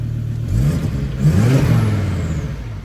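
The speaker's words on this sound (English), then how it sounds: "I'll give it a little rev so you can hear what it sounds like" A Volvo V70 Turbo engine revs up, rising to a throaty roar and then easing back to a steady rumble, loud and close with no talking.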